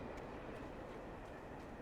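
Train rumbling past in the game Alan Wake, a steady broadband roar with low rolling noise held at an even level for the whole short stretch.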